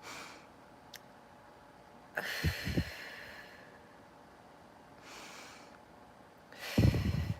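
Slow, deep breaths in and out during a guided calming exercise, with a long airy inhale and exhale spread across the clip, fairly close and soft, and no talking.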